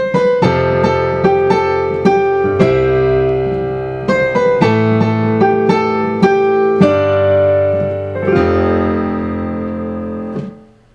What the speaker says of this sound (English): And so number 1 is going to be the Bösendorfer,